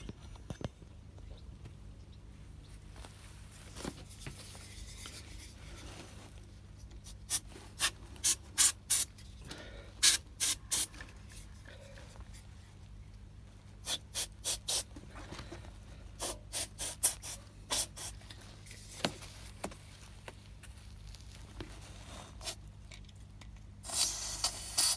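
A cloth rubbed with spirit over a koi pond bottom drain to degrease it, producing intermittent bursts of short scrubbing swipes in quick clusters, fairly close against a quiet, faintly humming background.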